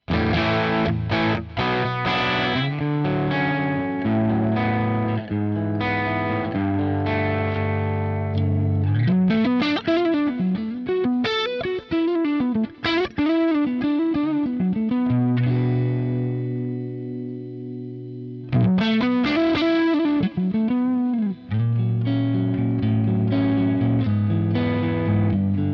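Driven electric guitar through a 1967 silverface Bassman amp model on a Line 6 Helix, sustained overdriven chords and melodic single-note lines with distortion and chorus-like shimmer, loud and continuous without speech.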